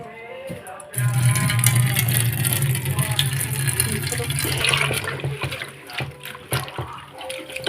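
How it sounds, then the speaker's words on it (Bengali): Leaves are washed one at a time in a sink basin, with water running and splashing steadily at close range for several seconds after a brief quieter start, while a person talks over it. "একটা একটা করে ভালো করে ধুয়ে নিচ্ছি"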